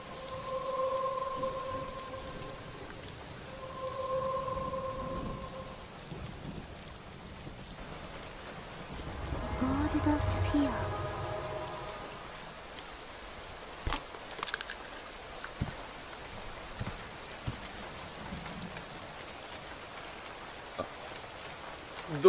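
Heavy thunderstorm rain in the video game Touhou Genso Wanderer, a steady wash of rainfall with a rumbling swell midway, alongside soft game music tones and scattered brief clicks, with no talk.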